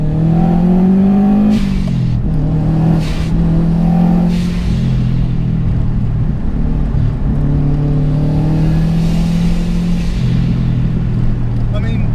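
Modified 500 bhp Subaru Forester engine revving hard from inside the car on a drive, with rising and falling pitch through the gear changes, loud and continuous under someone talking.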